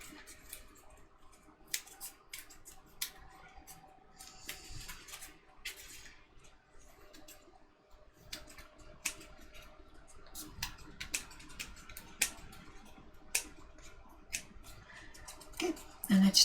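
Scissors trim material in a quiet workshop, giving sparse sharp snips and clicks scattered across a faint background, with occasional louder cuts near the end.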